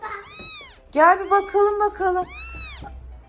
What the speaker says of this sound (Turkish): Bir yerden kedi sesi geliyor.